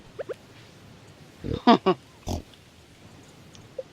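A pig grunts in the farming video game Stardew Valley, giving a few short, clear oinks in quick succession over a quiet background, with faint game sounds around them.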